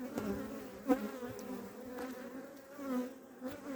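A steady, close buzz of many honeybees humming around an open hive in November, with faint rustles and soft ticks now and then.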